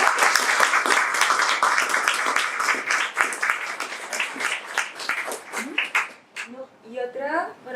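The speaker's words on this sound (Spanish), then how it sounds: "Un aplauso para todos." Loud, dense audience applause at a library talk on Atacama forests, a sustained wash of many hands clapping that fades after several seconds as a voice begins speaking.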